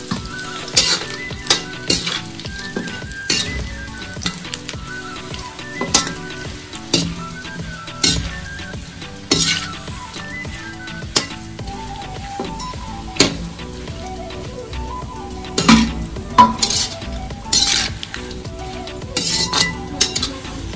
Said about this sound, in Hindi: एक खोपे को भी हम हल्का सा भूनेंगे इसमें,